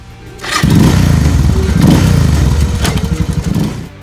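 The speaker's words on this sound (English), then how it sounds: "Making noise at number 14, Suzuki DR650 Stone Axe Thumper." A Suzuki DR650 air/oil-cooled single-cylinder thumper motorcycle revs loudly up close, a deep pulsing engine roar that rises then settles into a choppy, uneven idle.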